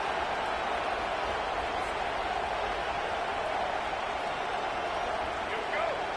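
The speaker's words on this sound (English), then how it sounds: "This crowd trying to make life miserable for this offense." Stadium crowd in the NCAA 25 football video game, a steady dense roar of broad noise holding evenly throughout with no clear peaks, under faint commentary.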